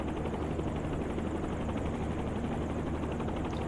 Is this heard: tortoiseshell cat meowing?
no